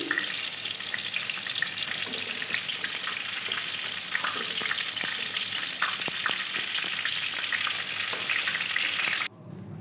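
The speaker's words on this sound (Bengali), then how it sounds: "ওই তেলের মধ্যে দিয়ে দিলাম কালো জিরে আর শুকনো লঙ্কার সম্বার" Nigella seeds and dried chili sizzle steadily in hot oil, a continuous close crackle with small pops and occasional stirring, no voices.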